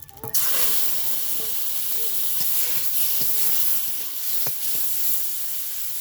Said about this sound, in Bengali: এবার আমি যে তেল কানকোগুলো রেখে দিয়েছি সেটা ভেজে নেব